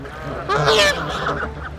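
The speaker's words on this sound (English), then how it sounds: "Yeah, and quite a conversation with a Canada goose." Canada geese in a park pond honk loudly in an agitated squabble, a burst of overlapping harsh calls peaking briefly before settling into lower, scattered honks close by.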